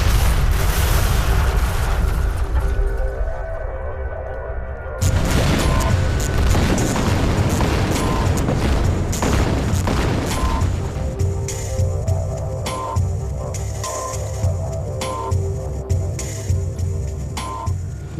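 Explosion shock-wave test near sensors on the ground: a dense, loud roaring blast that dies into a long rumbling tail, then a second broad burst about five seconds in, with crackling debris and reverberant low rumble lingering throughout.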